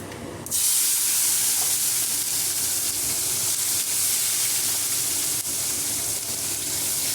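Tomatoes hit a hot frying pan of tempering fenugreek seeds and turmeric for tomato chutney, bursting into a loud, steady sizzle that holds evenly throughout.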